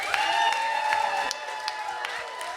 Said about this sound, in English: Give me a round of applause if you've ever heard this gentleman